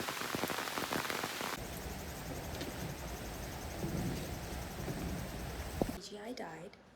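Steady rain hissing on surfaces in the Kiso Valley, Japan, throughout, with a brief sharp knock near the end and a short burst of voice-like sound at the close.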